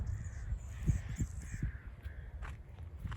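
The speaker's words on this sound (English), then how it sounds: "You can hear all the birds." Crows caw repeatedly at a moderate distance from a balcony on a bay, harsh calls spaced out over a low rumbling background with a few soft thumps.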